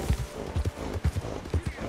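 Rhythmic hoof clip-clops from a trotting horse in the video game Red Dead Redemption 2, steady and fairly close, with low thudding beats repeating through the clip.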